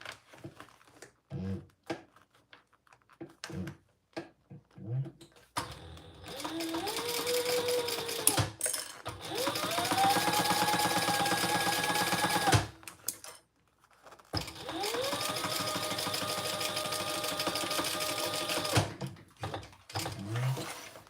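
Sewing machine stitching a bag runs in two long steady bursts separated by a pause, with a rising motor whine at the start of each run; short clicks and handling knocks come before and after.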